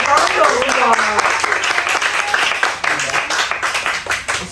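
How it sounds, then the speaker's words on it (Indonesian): At a school group talk show, a voice speaks over the opening seconds before a short, scattered burst of audience applause breaks out, with claps rising and fading near the end. "Tepuk tangan dong"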